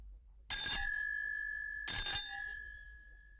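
A doorbell rings twice in a quiet house, two bright ringing chimes about a second and a half apart, each one sharp at the start and then fading, with nothing else heard between them.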